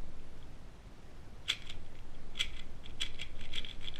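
A Qiyi Square-1 puzzle cube being turned, giving a few sharp plastic clicks and snaps spaced about a second apart over faint background hiss, close and fairly quiet.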